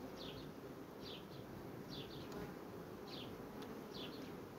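Honey bees hum steadily in a hive where new bees are emerging, a faint, even buzz with a few short chirps repeating over it.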